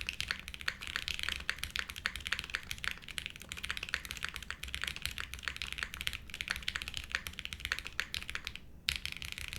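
Steady, fast typing on a Space80 Apollo mechanical keyboard, a dense run of close, crisp keystrokes with a brief pause near the end and no talking.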